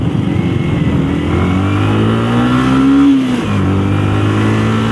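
A motorcycle engine revs up close, rising in pitch to a peak and then dropping back to a lower idle, loud and alone without speech.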